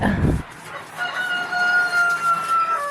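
A rooster crows nearby in a long, drawn-out call, following a brief low thump at the start.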